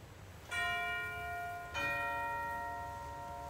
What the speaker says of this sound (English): a set of tower chimes